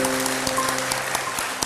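Applause at a talk, a steady wash of clapping with no pauses, fairly loud and unbroken by voices.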